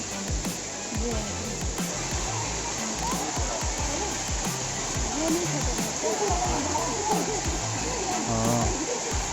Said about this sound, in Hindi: हम लोग पहुँच गए हैं इस जल प्रपात के पास